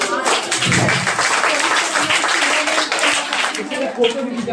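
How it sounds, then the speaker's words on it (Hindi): An audience claps at a school Saraswati Puja award ceremony, brisk close applause from many hands running steadily, with voices talking over it. "ताली बजना चाहिए।"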